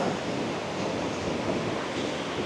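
Water rushing forcefully at the Srisailam dam power house, a loud, steady, dense roar of churning flow with no break or voices throughout.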